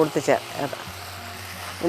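Soft sizzling of onions sautéing in hot oil for Kerala sambar, low and continuous, with a few faint voice-like bursts near the start and end.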